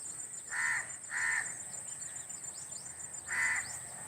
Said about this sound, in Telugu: ఈ చెట్ల మీదకి పక్షులు చేరుతూ ఉంటాయండి